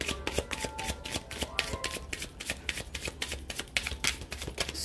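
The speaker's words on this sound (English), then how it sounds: "One more shuffle." Tarot cards shuffled by hand in a steady run of crisp riffling bursts, close and fairly loud, with no talking over them.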